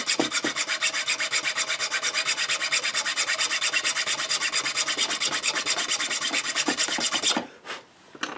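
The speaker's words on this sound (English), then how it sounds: "now we'll just use a square needle file just to slightly deepen that hole again" A square needle file deepens a slot in a guitar nut with fast, even rasping strokes, close and loud, running steadily before stopping near the end with a couple of final scrapes.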